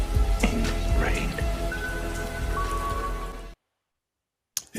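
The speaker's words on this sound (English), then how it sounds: "The tears in the rain scene with Rutger Hauer and Harrison Ford" Steady rain in the rooftop scene of Blade Runner, a dense continuous hiss of falling water with scattered drop impacts and a faint rumble, lasting several seconds before cutting to silence, then a brief return at the end.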